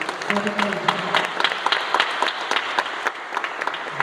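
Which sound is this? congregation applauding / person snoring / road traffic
congregation applauding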